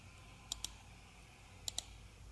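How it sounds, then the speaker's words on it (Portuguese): Computer mouse buttons click twice in quick succession, then a second sharp pair of clicks follows about a second later, close and distinct over a faint steady hum, while working in LiDAR point cloud visualization software. "finalizar clicando com o botão direito."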